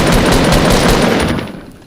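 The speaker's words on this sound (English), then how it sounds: "I shoot down this wall" Rapid automatic gunfire in a video game as a player shoots down a built wall, a loud, close, fast rhythmic burst of shots that trails off toward the end, with no talking.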